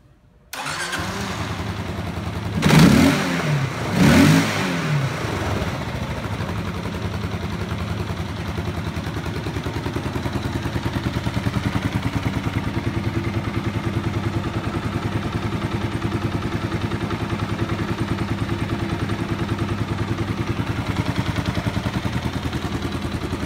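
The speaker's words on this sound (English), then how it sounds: "I'm gonna start the bike up" A 2015 Kawasaki KLR 650 E motorcycle engine cranks and fires with two sharp starter bursts, then settles into a steady, loud single-cylinder idle that runs on without break.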